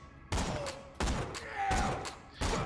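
Jakobs sniper rifle shots in Borderlands The Pre-Sequel, four sharp, loud reports fired at a fairly quick steady pace, each with a short echoing tail and no talking.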